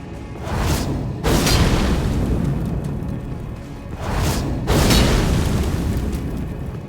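The Immolation weapon fires in Terraria with the Convergence mod, giving two long roaring blasts that swell and rumble for a few seconds each, loud and close, with no talk over them.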